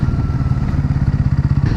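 Motorcycle ridden slowly along a rough forest road on the way from Tripura to Mizoram, a steady low engine throb with a rhythmic pulsing beat and some clatter, close and loud, with no one talking.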